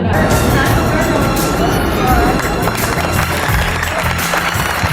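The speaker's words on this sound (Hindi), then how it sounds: "जोरदार तालियां।" Loud applause from a crowd at a school Teachers' Day ceremony, a dense continuous wash of clapping mixed with crowd murmur and a booming sound system for the whole stretch.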